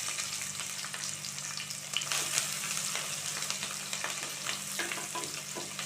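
Small shallots and green chilies with fennel seeds sizzle steadily in hot sesame oil in a pan, a dense even frying hiss with faint stirring clicks, near and continuous, no voices.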